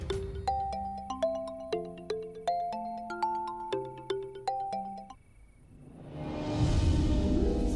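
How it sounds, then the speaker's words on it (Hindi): A bright, melodic phone ringtone plays a repeating tune for about five seconds, then stops and gives way to a swelling rush of noise. "मनोरमा का फोन काट दिया?"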